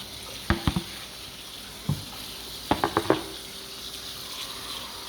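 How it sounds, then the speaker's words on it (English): Tie-dyed shirts are rinsed in water, giving quiet sloshing and splashing in a few short clusters of wet slaps against a faint background hiss. "We're going to rinse these out some."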